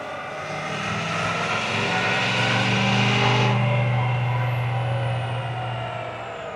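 L5P Duramax diesel pickup engine at a diesel truck show and competition, a loud sustained roar with a deep low drone that builds, holds steady for several seconds, then eases off, heard up close without talk.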